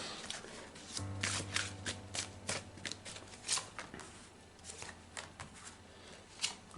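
Tarot cards are shuffled and laid out by hand in a quiet room, giving a run of soft riffling flicks and light taps, close and faint, with a low hum under them.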